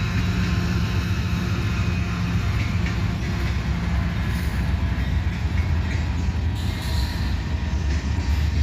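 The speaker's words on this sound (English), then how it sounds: "That's the Abbeville switcher." A switcher locomotive rumbles steadily past, hauling gondolas loaded with wood and granite, its heavy engine drone and rolling wheel noise loud and continuous, with faint metallic squeals along the way.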